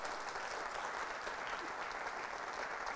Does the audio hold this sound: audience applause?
yes